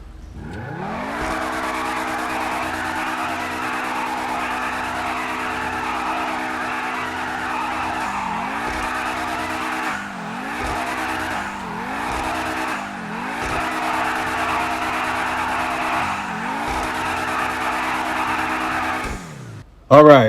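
A Pegassi Zorruso sports car in GTA V revs hard and skids repeatedly, its engine note rising and dropping through several gear shifts over sustained loud tire squeal, with a brief burst at the very end.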